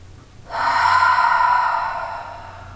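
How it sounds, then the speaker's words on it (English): A deep breath drawn during a pelvic floor yoga session, a single long airy inhale that starts suddenly and fades slowly over a couple of seconds, close and clear with no talk. "So one more deep breath here."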